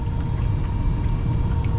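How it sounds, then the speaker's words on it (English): Water leaking and squirting from a York four-pipe fan coil unit, a steady hissing, splashing wash with a faint tonal hum beneath, continuous and close. "Somewhere in there, I can see the water squirting out right over there."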